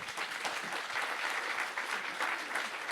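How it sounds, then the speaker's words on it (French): Steady, moderately loud audience applause after a conference panel on B2B e-commerce growth, continuous clapping with no voices over it. "On peut les applaudir, effectivement."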